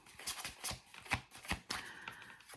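A deck of tarot cards being shuffled by hand close up, a series of soft riffling bursts and slaps in an irregular rhythm, quiet and alone without talking.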